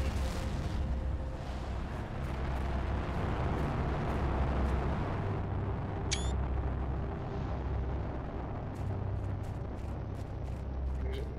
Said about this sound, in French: La fusée est partie.